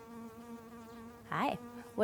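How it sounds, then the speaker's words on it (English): A honeybee in a small backyard garden buzzes with a steady close-up drone, then a brief louder, wavering swell as it moves near, with no talking. "This bee is totally checking me out right now."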